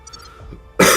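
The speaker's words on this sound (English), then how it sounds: "I'm really sorry that I'm coughing." A single sharp cough bursts out near the end after a quiet stretch, loud and close.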